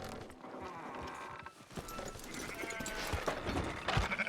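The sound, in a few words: sheep bleating in a video game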